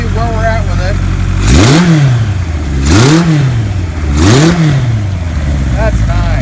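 A 1978 Kawasaki KZ1000A motorcycle in Celina Blue, with untested carburetor jetting, revs up from a lumpy idle three times in quick succession, each throttle blip rising and falling sharply close by.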